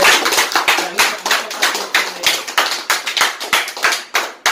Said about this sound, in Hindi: ऋचा कुमारी को एक बार तालियों से स्वागत है